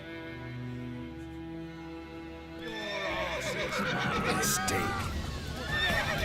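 A horse neighs and whinnies amid game sound effects and a low musical drone, with a voice speaking briefly partway through.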